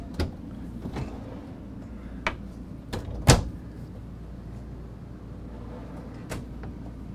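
Deep drawers in a 2022 Renegade Valencia 38RB RV camper slide open and shut, giving a series of separate knocks and thuds at uneven intervals over a steady low background hum.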